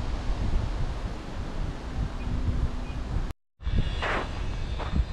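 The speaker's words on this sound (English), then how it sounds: "She's a little bit windy today" Steady wind buffeting a microphone outdoors in Klaipėda, Lithuania, a broad rushing roar that cuts out briefly, then returns with faint higher whooshes and gusts.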